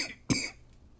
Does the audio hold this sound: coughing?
yes